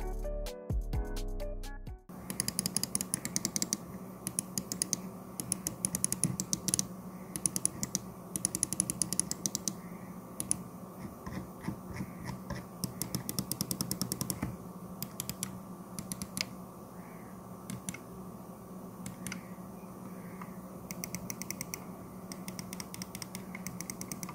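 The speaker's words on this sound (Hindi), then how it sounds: "अब इस माउस के क्लिक साउंड की बात करें तो वो कुछ यूं है।" A Redragon M692 Blade wireless gaming mouse clicks repeatedly, close and quiet, in rapid irregular bursts of sharp plastic taps over roughly twenty seconds, after a brief burst of louder handling noise at the start, with no talking.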